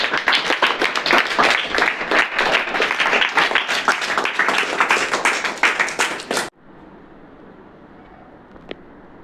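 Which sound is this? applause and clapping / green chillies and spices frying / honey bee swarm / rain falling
applause and clapping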